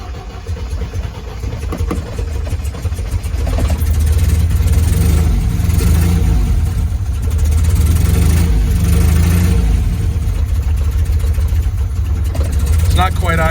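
A 1977 MGB engine runs loud and close, not quite settling into an idle, with a rough steady drone and a person talking nearby.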